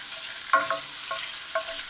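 Pancetta and meat fry quietly in olive oil in a pan, a soft steady sizzle broken by a few sharp stirring scrapes and knocks at irregular moments.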